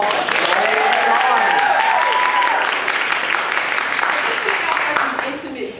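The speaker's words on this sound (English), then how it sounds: "So let's first of all give Candace a welcome applause." Audience applause welcoming basketball player Candace Parker, steady dense clapping from a small crowd that fades toward the end, with voices and cheering mixed in over it.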